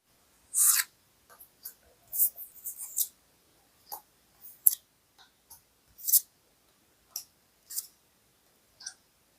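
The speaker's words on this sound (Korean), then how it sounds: "그렇다면 상대분의 진짜 속마음의 카드 뽑아보겠습니다." Tarot cards drawn and handled in a quiet room, soft papery swishes, slides and light taps arriving in scattered, irregular bursts, close and faint, with no speech.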